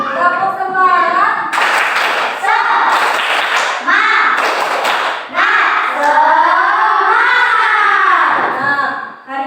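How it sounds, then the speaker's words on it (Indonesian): Schoolchildren in an Indonesian classroom perform the tepuk semangat clapping chant, with bursts of rhythmic group clapping and thumps mixed into loud chanting and a teacher's voice throughout. "Kalau senang, kita tepuk semangat dulu yuk. Tepuk semangat."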